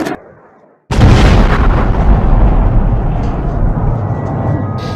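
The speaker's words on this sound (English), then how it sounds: "Huge explosions woke everyone in Kiev" After a brief quieter stretch, a huge deep missile explosion in Kyiv erupts and rolls on as a sustained rumbling roar, loud and booming.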